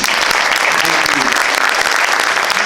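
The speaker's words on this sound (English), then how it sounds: "can you please clap it up for yourselves, please?" A live show audience claps for itself, a dense, steady wash of applause that stays loud and even from start to finish.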